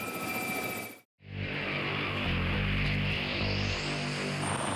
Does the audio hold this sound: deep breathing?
no